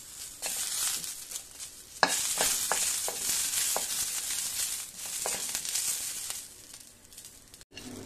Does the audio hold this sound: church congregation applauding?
no